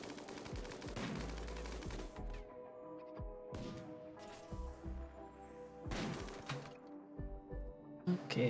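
Gunfire in the video game Rimworld: rapid bursts of automatic shots and sharp cracks come in several clustered volleys, loud and close, separated by brief gaps with lingering crashes.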